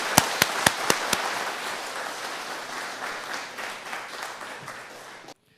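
An audience at a May 18 Democratic Movement memorial ceremony in Maryland breaks into sustained applause. A few sharp, loud claps stand out at the start over dense, steady clapping that slowly fades before stopping abruptly.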